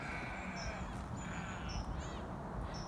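Crows caw in roadside hedges near a farm outside Barnsley, a few harsh calls, moderately distant, over a steady outdoor rumble with no speech.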